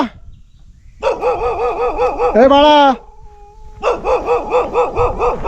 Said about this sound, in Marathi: त्या कुत्र्याला आवर की चावायचं नाही ना मला